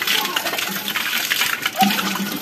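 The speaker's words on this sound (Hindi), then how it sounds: "तो अभी जो है मशीन में पानी डालते हैं" Water pours steadily into a washing machine at home, a close, continuous gushing flow with a small metallic clink partway through.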